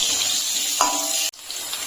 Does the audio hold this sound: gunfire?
no